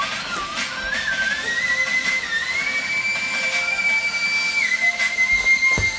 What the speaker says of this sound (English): She did the whistle right away.